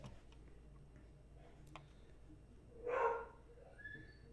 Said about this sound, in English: Boy, the dog is going crazy.